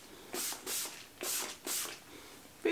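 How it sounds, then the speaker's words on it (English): Heat protectant spray is pumped into long hair in four quick hissing bursts, fairly close and evenly spaced, with no talking over them. "So spray this in the hair."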